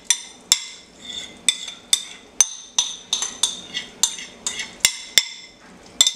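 Sautéed vegetables go back into a simmering vegetable beef soup with a run of about a dozen sharp, evenly spaced metallic clinks and taps of a utensil against cookware, close and clear, with no voices.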